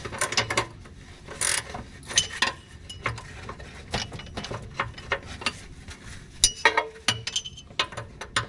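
An aerator drive sprocket being adjusted during maintenance, with irregular metallic clicks, clinks and ratcheting taps from tools and the mechanism, fairly quiet and close, with no talking.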